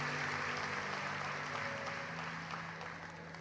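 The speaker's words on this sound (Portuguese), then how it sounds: "Dê um aplauso ao Senhor" A church congregation applauds in a continuous wash of clapping, with sustained musical tones humming underneath and the volume easing slightly toward the end.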